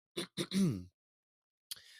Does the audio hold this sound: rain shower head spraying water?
no